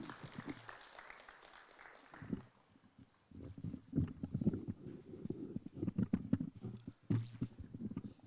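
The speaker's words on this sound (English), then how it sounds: "We can clap for him as he's coming." Applause from a crowd at State House, Nairobi, starting soft and swelling into steady, fairly loud clapping that carries on to the end.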